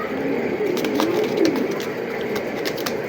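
A female racing pigeon cooing softly and continuously at close range, a low throaty murmur with a faint background hum.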